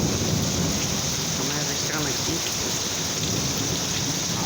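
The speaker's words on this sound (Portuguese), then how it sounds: "Muita chuva, muita chuva." Heavy rain pours steadily during a night-time thunderstorm in Manaus, a dense, loud, continuous roar with thunder rumbling underneath, while a voice speaks briefly over it.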